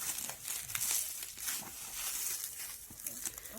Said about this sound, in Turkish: Yırt yırt poşeti